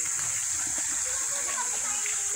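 Waterfall at a golf club resort, a steady broadband rush of falling water with splashing, continuous and fairly close, with faint voices in the background.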